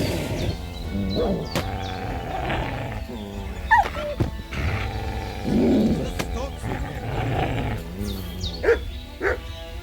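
A dog in the medieval game Kingdom Come: Deliverance II gives loud, rough barks and growls, scattered over a noisy scene mixed with other voices.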